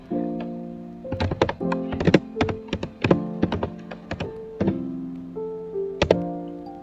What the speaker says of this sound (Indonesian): kita tampilkan tabelnya dengan mengetik show tabel.